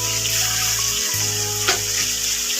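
Steady sizzling of chopped tomatoes frying in a pan for egg gravy, a continuous crackling hiss with a low hum underneath and no talking.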